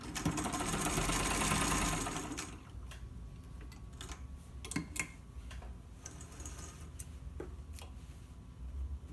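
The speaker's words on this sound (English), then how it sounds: "I'm just doing small stitches at the end to lock it." A sewing machine runs a short burst of small locking stitches on fabric with a straight edge joined to a curved edge, starting loud and steady, then dropping to scattered quieter clicks and handling sounds.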